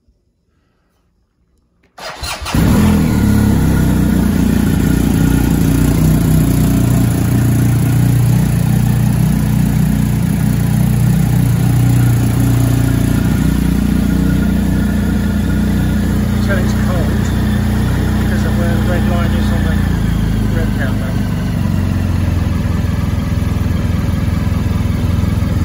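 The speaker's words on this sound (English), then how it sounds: "let's give her a starter up" A BMW R1250 GS TE Rallye motorcycle engine cranks and fires after a short silence, then settles into a loud, steady, close idle rumble for the rest of the clip.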